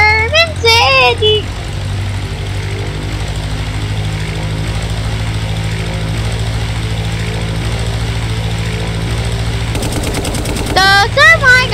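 Rapid machine gun fire from prop planes in a Brick Rigs dogfight over a German city, a loud continuous rattling burst under engine drone, with excited child-like voices at the start and end.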